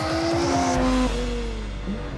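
A Porsche 911 is driven hard on a track, its engine revving high and dropping as it brakes into a corner, followed by a brief tire squeal, loud and close.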